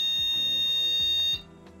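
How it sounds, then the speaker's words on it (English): A workplace alarm-test buzzer sounds one steady, loud electronic tone for just over a second, then cuts off, leaving faint room noise with a couple of small knocks. "that buzz, guys. Alarm test."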